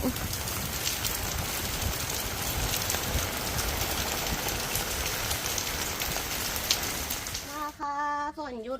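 Heavy rain pours down steadily over a rose garden, a dense, loud hiss that fills the whole stretch; a voice briefly cuts in near the end.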